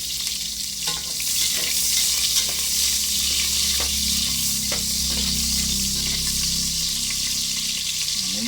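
Onions sizzle in hot oil as the sautéing base for chop suey, a steady bright frying hiss with occasional stirring clicks and scrapes, close and continuous without talk.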